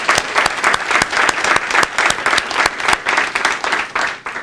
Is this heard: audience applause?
yes